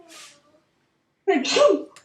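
A single sharp sneeze from a pupil bursts out in a classroom during a maths lesson, loud and close, following a brief stretch of quiet after a short voice.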